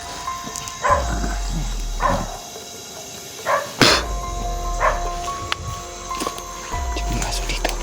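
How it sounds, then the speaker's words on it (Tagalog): A dog barks in several separate bursts, some sharp and some yelping, spread across the clip with a voice speaking in between. "May aso dito."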